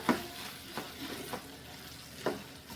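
Bitter gourd gravy stirred in a pan just after butter goes in, with a few soft scraping strokes over a low, gentle sizzle, close and fairly quiet.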